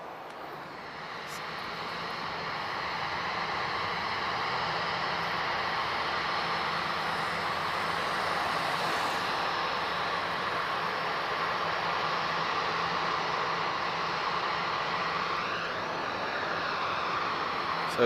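A British Airways airliner at Lisbon Airport produces a steady, moderately distant jet engine roar that holds evenly throughout, a broad whooshing drone without any voices over it.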